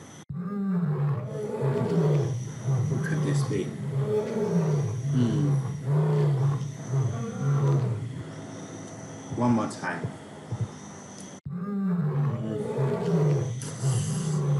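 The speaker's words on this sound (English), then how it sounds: "Lion? It is a lion. Okay, a lion." A lion roars loud and close, with deep rumbling calls repeating across the whole stretch, and a voice talks over them briefly.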